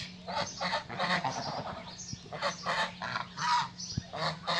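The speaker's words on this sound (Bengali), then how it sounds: "এটা আমাদের বাড়ির রাজহাঁস।" Domestic geese resting at a home farm by a pond give repeated honking calls in irregular bursts, fairly faint and close, with no one talking.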